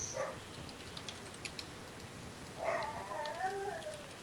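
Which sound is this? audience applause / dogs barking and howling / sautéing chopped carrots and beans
dogs barking and howling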